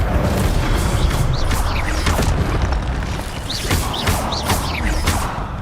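Booming, crackling blasts from the Incendio fire spell and other spell effects in the video game Hogwarts Legacy, dense and continuous, loud throughout.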